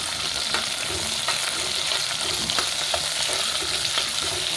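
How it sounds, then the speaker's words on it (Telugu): Onions, green chilies and dried red chilies fry in hot oil while a spoon stirs them. A steady, loud sizzle runs throughout, broken by repeated scraping strokes. "ఆనియన్స్ పచ్చిమిర్చి, ఎండుమిరపకాయలు కూడా వేసేస్తున్నాము."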